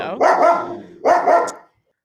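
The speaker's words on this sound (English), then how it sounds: "dog's barking in the background" Two loud, drawn-out dog barks close by, each a rough howling yowl, the second ending in a short yip before silence.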